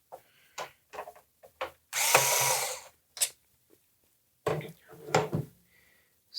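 Screws being backed out of a Sony PlayStation 5 console during disassembly, heard as short close tool whirs and clicks, one longer loud powered burst, with brief pauses between.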